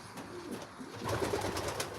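Racing pigeons coo softly in a loft, low throaty calls overlapping in a brief, fairly faint murmur.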